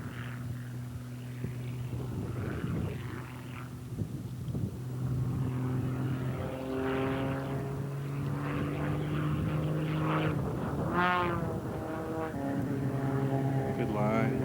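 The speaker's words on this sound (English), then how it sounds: "as Chambliss puts his 8th place plane through its paces" A propeller-driven aerobatic competition plane flying in strong winds drones steadily, its engine pitch rising and sliding as it maneuvers, while a commentator talks over it.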